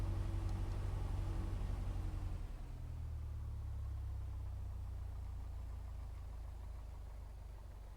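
A light aircraft engine in a flight simulator runs up during a carb-heat check, its steady low drone dropping in pitch and settling into a lower, even hum that holds to the end, with no talk.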